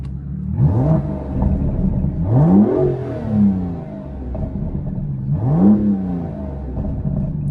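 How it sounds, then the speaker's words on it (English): A 2017 Aston Martin DB11 V12 engine with stock sport exhaust in Sport Plus mode revs three times, each blip rising sharply then falling back to a deep, loud idle rumble close by. "And the V12 sounds magical."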